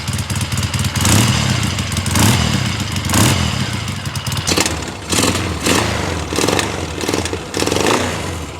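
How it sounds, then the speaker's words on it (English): A Yamaha XS650 motorcycle engine revs hard in several sharp bursts, each climbing and dropping back, with a loud close mechanical roar and idle clatter between blips. "When I rev the XS, watch how much the bike jumps back."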